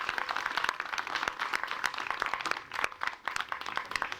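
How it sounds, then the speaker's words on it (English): A crowd claps in sustained applause for a youth team at a UK charity event, a dense crackle of many hands with no voices over it. "Please could we give a massive round of applause for them."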